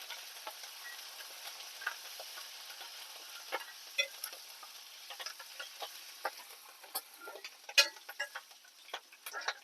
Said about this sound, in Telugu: ఎంత ఆడావుడో చూడు కరివేపాకు